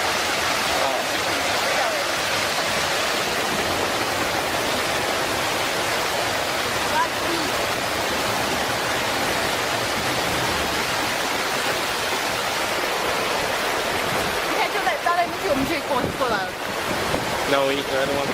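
Flash flood water rushing and breaking with a loud, continuous broad roar like heavy surf, steady throughout with faint voices under it near the end.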